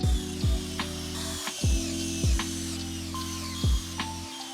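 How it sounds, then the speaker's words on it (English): Power drill driving screws into glued and clamped wooden boards of an anvil stand, several short whirring bursts that wind down, each followed by a pause, close and alone. "I'll screw it in from both sides."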